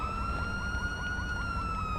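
A police siren wails from a Chevy Tahoe patrol vehicle in the GTA 5 video game, a steady high electronic tone with rapid pulsing warble over low engine rumble, heard alone and fairly faint.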